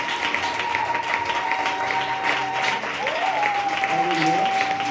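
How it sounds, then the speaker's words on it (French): A church congregation applauds steadily throughout, with a sustained tone and some voices mixed in the crowd noise. "On acclame le Seigneur."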